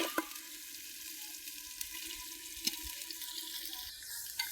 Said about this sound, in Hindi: तकरीबन 2 से 3 मिनट के लिए अच्छे से इसको इसमें फ्राई करना है, ताकि अच्छे से ब्राउन हो जाए।